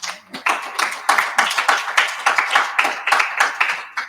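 A church congregation claps and applauds in praise, a dense sustained burst of many hands with rhythmic swells throughout, loud and close with no talk over it.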